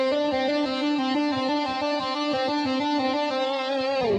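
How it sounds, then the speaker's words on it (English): A distorted, chorus-tinged electric guitar trills with rapid repeated hammer-ons and pull-offs between two fretted notes. It makes a steady, sustained, fluttering tone that runs the whole time, with no talking. "that's also known as a trill when you do that repetitively"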